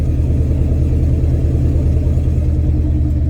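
A big-cam engine runs steadily with a low, dense rumble, holding near throttle with slight uneven surging and bucking, loud and close with no talk.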